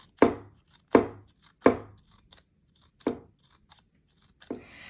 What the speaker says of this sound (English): I'm going to take my scissors and I'm going to go from the side and I'm going to cut diagonally down